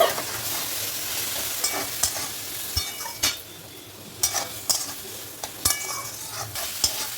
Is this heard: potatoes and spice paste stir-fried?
yes